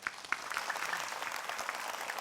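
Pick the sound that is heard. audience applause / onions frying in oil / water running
audience applause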